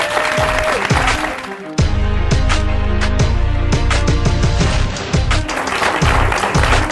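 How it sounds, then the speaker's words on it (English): Audience at a professional women's community event at a casino resort clapping continuously, the applause mixed with loud background music and some voices. "So let's give them a round of applause."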